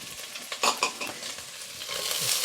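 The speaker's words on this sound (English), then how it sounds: "into the pan, I'm going to add my onions, my celery," Onions and celery hitting a pan with about half a tablespoon of butter, building into a close, steady sizzle with a few stirring scrapes early on.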